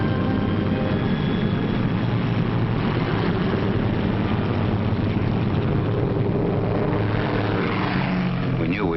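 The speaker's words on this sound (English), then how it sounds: "we heard the roar of engines as the Pathfinder ships began hopping off" Propeller engines of Pathfinder aircraft roar during takeoff for the D-Day airborne operation, a steady, dense, loud drone that fills the whole stretch without a break.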